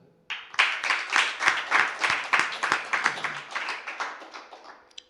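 An audience at an institution for blind children claps in a quick, steady rhythm to congratulate a student on his birthday, a dense burst of applause lasting several seconds before fading out.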